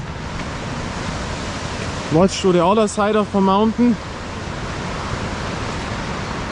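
Steady broadband rush of a high-running river beside a mountain path, filling the whole stretch, with someone speaking briefly over it midway.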